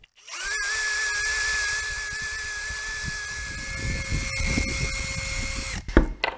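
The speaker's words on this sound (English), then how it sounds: "I've revealed the part of my drill bit that we can use here without any risk" An electric power drill plunges a bit into a Tesla Model 3 model car, a steady close whine from start to finish that cuts off abruptly near the end.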